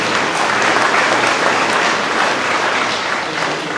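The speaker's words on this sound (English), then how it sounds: "Please give him a big round of applause." Loud, dense applause from a crowd at an agricultural network meeting, thanking a presenter, sustained and even for several seconds with many hands clapping close by.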